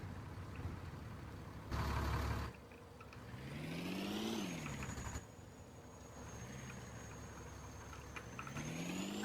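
In a video game, a truck engine revs up and down in a rising and falling whine over a steady mid-pitched drone, with a brief louder burst early on. No one speaks.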